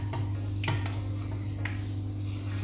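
Fry bread dough frying in hot oil, a constant close sizzle with a low steady hum beneath and a few sharp clicks as the dough is turned over, no talking.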